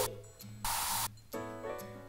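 A single loud hiss of disinfectant spray in the Cats and Dogs video game, lasting about half a second, set against soft, steady game music.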